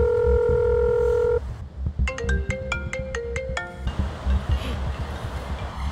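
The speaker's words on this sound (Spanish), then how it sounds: "Creo que es mi teléfono." A phone ringtone plays: a steady tone, then a quick melodic run of electronic notes, over a low rumbling background like surf.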